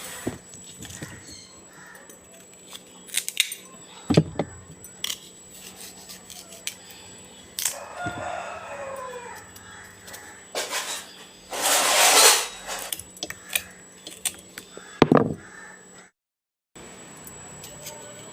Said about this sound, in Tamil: இப்போது கேரட், முள்ளங்கி, உருளைக்கிழங்கு சின்ன சின்னதாக கட் பண்ணிக்கணும்.